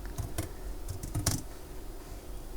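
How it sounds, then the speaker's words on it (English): Typing on a slightly unfamiliar computer keyboard while coding in Python: clusters of crisp key clicks in the first second and a half, then faint steady room hiss, fairly close and alone. "I'm sorry about the typos, but I'm using a slightly unfamiliar keyboard here"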